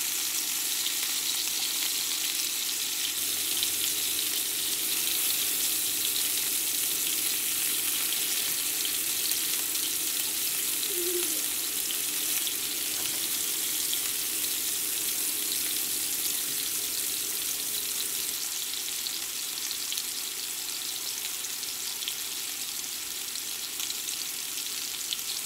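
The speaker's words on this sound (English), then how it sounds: "you want to cook your patties until they are brown on one side before you flip them" Venison Salisbury steak patties fry in a cast iron pan, giving a steady, continuous sizzle with soft crackle throughout a long stretch and no talking.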